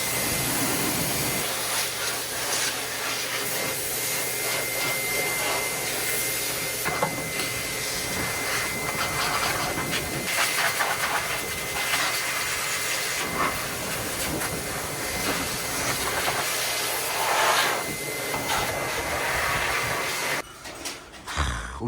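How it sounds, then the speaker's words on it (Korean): A strong, steady rush of air from a blower drying a car's engine bay after washing hisses continuously at close range, a broad unbroken roar that cuts off abruptly near the end. "물기 제거하는 거 블로어로 할 겁니다."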